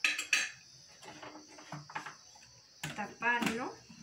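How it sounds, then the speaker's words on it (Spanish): Metal utensil stirring and clinking against a pot of food at an outdoor cooking event, sharp scrapes and taps in short bursts, with people talking and faint insects chirping in the background. "Ahora sí, vamos a revolver"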